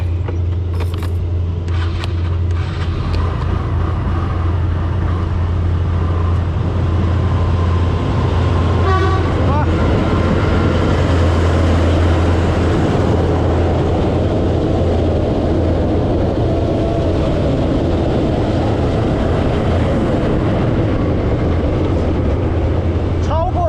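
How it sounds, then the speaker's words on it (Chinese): A Japanese scooter motorcycle rides alongside a Vietnamese train at the China–Vietnam border, giving a continuous loud engine and wind drone with low train rumble and a brief horn toot, and someone talks over it. "它现在速度已经起来了，我现在要骑摩托车跟它同时出发。"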